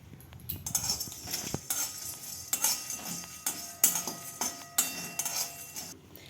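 Whole spices such as star anise, dried red chillies, black peppercorns, cardamom, bay leaf, cinnamon, cloves and fennel dry-roasting in a pan for Kashmiri chicken, with repeated close metallic clinks and scrapes in an uneven rhythm, no talking.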